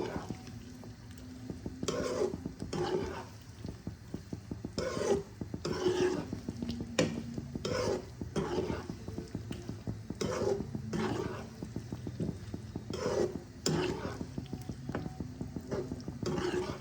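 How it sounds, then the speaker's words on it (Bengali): Kasuri methi is stirred into kadhai fish in a pan, with a steady run of close spoon scrapes and knocks against the metal over a soft sizzle, about one stroke per second. "এই যে কসুরি মেথি আমি একটু দিয়ে দিলাম। ভালো করে মিশিয়ে নেব।"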